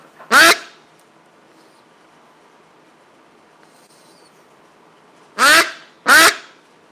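A duck quacks right into a microphone: one very loud, close, harsh quack, a pause of several seconds in near silence, then two more in quick succession.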